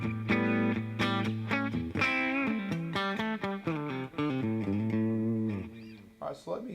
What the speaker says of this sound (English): I'll let you hear my clean signal. It has delay and reverb on it.